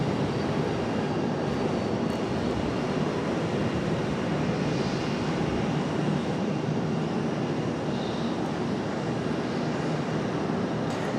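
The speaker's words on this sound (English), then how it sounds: "Next arrival coming in from Buffalo, New York, American Airlines 1203 737-800." An American Airlines Boeing 737-800 from Buffalo, New York, arrives at Charlotte, its engines a steady, moderately distant jet rumble with a broad wash of noise and no voices.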